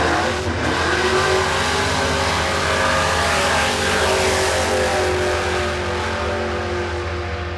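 Drag race car launching at Warwick Dragway on a no-prep track, a loud, sustained engine roar with heavy wheel slippage and spin running throughout at close range.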